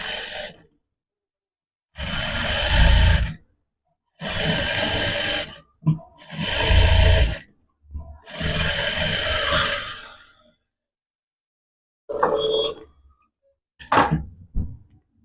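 A sewing machine stitching salwar fabric runs in bursts of a few seconds each, separated by silences, with fast rhythmic mechanical clatter up close, then a couple of brief short runs at the end.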